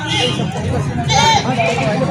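Goats bleating at a busy livestock market, a wavering animal call rising around the middle over continuous crowd chatter and people talking nearby.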